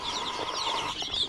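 Chickens and turkeys clucking and chirping together in a farmyard pen, a steady, busy chatter of several birds close by with no talk.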